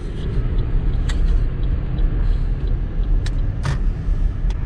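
Cars move in traffic in a dense, continuous roadway rumble heard from inside a moving vehicle, with a few sharp hisses that suggest bus air brakes, and no talking.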